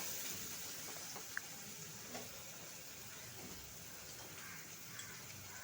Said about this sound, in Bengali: আমড়াগুলো আমি একটু হালকা ভাজা ভাজা করে নিচ্ছি।